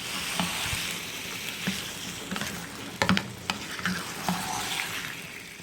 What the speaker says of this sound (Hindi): इसको हम अच्छी तरह से 2 से 3 मिनट के लिए फ्राई करेंगे।